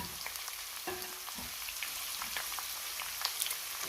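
Crushed ginger and garlic sizzle with curry leaves and slit green chilies in a pan for a toddy-shop style Kerala chicken curry, a steady close frying crackle with occasional stirring scrapes and no talking.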